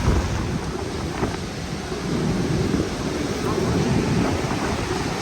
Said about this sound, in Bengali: খালি সমুদ্র খালি ঝর্নার আওয়াজ হবে